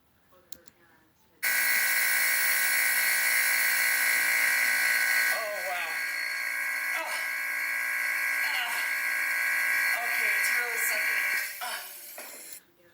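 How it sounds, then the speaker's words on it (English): A vacuum pump runs loudly and steadily for over ten seconds with a strong humming whine, shifting slightly in tone partway through, while people talk faintly in the background. "That vacuum pump is sucking the air and anything else in the area out."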